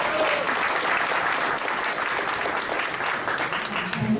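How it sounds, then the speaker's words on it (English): An audience at a boxing press conference in Philadelphia gives a round of applause for Katie Taylor, steady and fairly loud throughout with a crowd murmur underneath. "Ladies and gentlemen, a big round of applause for Katie Taylor."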